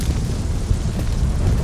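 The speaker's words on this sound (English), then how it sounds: "Fucking love explosions!" Explosion in the City of Outlaws Android video game, a short, loud, low boom that fills the whole moment with dense rumbling.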